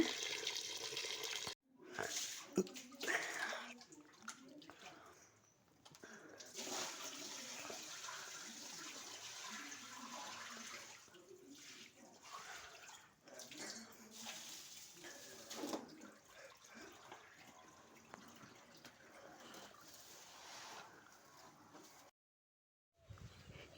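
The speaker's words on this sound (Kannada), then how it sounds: "ಎರಡು ಮೂರು ಸಲ ತೊಳಿಬೇಕು ಅಕ್ಕಿನ ಇಲ್ಲಾಂದರೆ ತುಂಬ ಗಲೀಜಿರುತ್ತೆ" Ration rice is washed by hand in water, giving soft, irregular sloshing and swishing with small splashes close by, fairly faint, and a short pause near the end.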